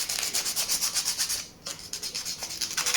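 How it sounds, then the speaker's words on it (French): Styrene plastic is sanded with 240-grit sandpaper in quick rhythmic back-and-forth strokes, each a close, raspy scratch, with one short pause midway before the rubbing resumes. "Alors le styrène se ponce super bien."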